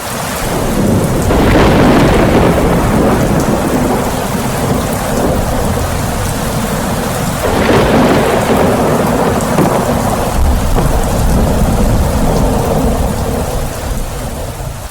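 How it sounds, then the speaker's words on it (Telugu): Steady heavy rain pours throughout with deep rolling thunder swelling twice, a loud continuous storm with no voices. "ఆ మెరుపులో నుండి వరుణదేవుడు వర్షాన్ని కురిపించాడు."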